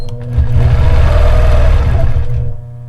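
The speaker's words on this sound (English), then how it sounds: "we're going to stitch with that needle half of an inch away from the edge" A sewing machine drives a quilting line for ruler work on a triangle design, one loud, close, steady run of rapid stitching lasting about two seconds before winding down.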